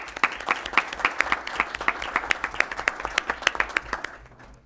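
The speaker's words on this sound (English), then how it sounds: "So let's give them all an applause." Audience applause at a Board of Education meeting, a steady patter of many hands clapping at fairly close range that thins and fades out near the end.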